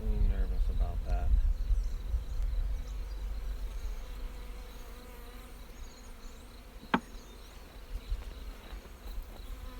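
Bees swarm around a beekeeper working an open hive with comb during a queen cage check, producing a continuous close droning buzz that rises and falls, with a few brief rustles and knocks.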